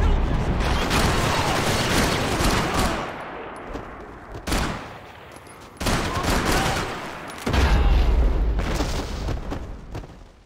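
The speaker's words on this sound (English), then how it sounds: "gunfire over Hoboken." Heavy bursts of rapid gunfire erupt in several loud waves in the video game Max Payne 3, separated by brief lulls, with booming blasts mixed in.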